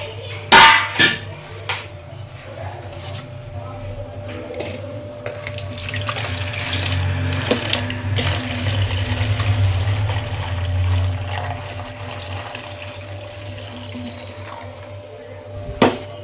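Tap water runs steadily for a two-month-old baby's bath, a continuous close hiss with a low hum beneath, a few knocks and clatters near the start and end, and no talking.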